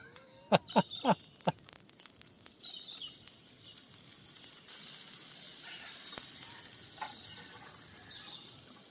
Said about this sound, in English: Let's get the steak on.